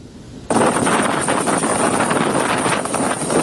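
Police aviation helicopter carrying a patrol team and inflatable boat, its rotor noise cutting in abruptly and droning loud and steady with wind rush.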